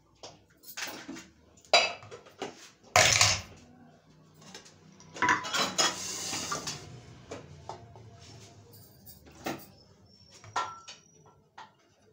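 Dishes, pots and metal utensils clatter in a home kitchen during cooking of kadhi pakora, with irregular clanks and scrapes coming in bursts at close range and no talking.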